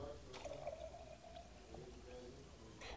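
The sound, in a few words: pouring distilled water into a container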